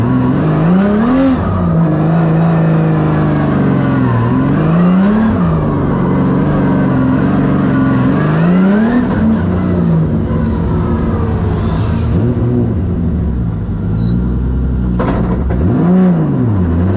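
A drift race car at a Formula Drift skills event, running nitrous, revs and accelerates loudly, its engine pitch climbing and falling through repeated surges, close and sustained for the whole stretch.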